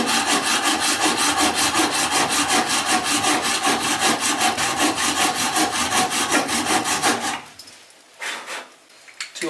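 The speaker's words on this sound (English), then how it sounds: "So cut like that, and then an angled cut to meet that." A hand saw cuts an angled line through wood in steady, rapid back-and-forth strokes that run loud and close for about seven seconds, then a few slower, fainter strokes finish the cut.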